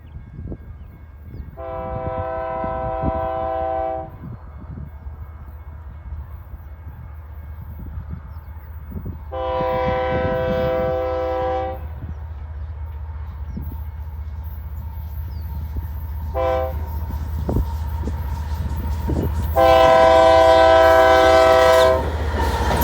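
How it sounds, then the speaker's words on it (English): A lone BNSF locomotive rumbles steadily closer north of Wolsey, South Dakota, sounding several loud, sustained horn blasts spaced apart, the last one nearest and strongest. "here comes a single BNSF engine"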